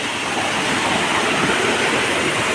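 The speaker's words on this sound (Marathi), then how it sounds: "बघा हय पाणी पडतं" A Konkan waterfall at Panjoli sends water crashing over rocks, a loud, continuous broadband rush with no breaks.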